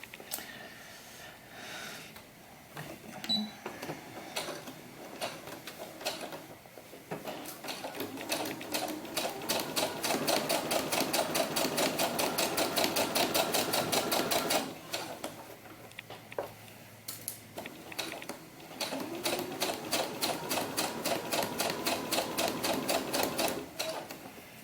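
A sewing machine stitches the shoulder seam of a doll mannequin in fast, steady mechanical ticking bursts, close and fairly loud, with short pauses between runs and a quiet voice now and then.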